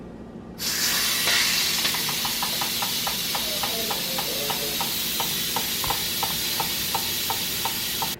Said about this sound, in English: so I'm just going to release the steam from the pot